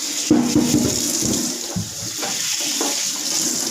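Vegetables washed under a running kitchen tap to go with Thai mackerel chili dip, a steady close rush of water with splashing and handling sounds as the produce is rinsed.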